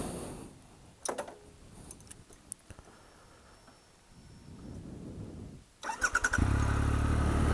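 A 2013 Triumph Tiger Explorer motorcycle pulls away as the rider sets off. Scattered clicks and quiet idling come first, then a loud engine surge near the end as the bike accelerates.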